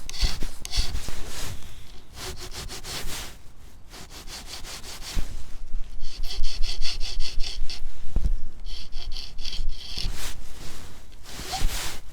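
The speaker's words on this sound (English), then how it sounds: "we're just going to file it so it's nice and smooth" A hand file works a metal part for a motorcycle rear brake disk setup, a 220mm disk on a Super Soco TC Wanderer, smoothing it with repeated close rasping strokes in bursts, loud and steady with short pauses between runs.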